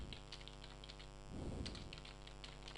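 Quiet keystrokes tap on a computer keyboard while text is entered in vi insert mode, a few soft clicks in a short burst over a low mains hum, with no talking.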